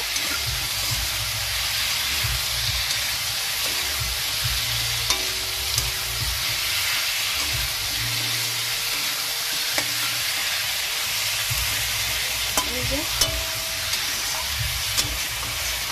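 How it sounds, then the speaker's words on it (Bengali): Potatoes and cauliflower stir-fried with spices in a pan for a cauliflower tilapia curry give a steady, close sizzle that runs throughout, dotted with occasional soft scrapes and clinks of stirring. "আলু ফুলকপিটাকেও কষিয়ে নিচ্ছি।"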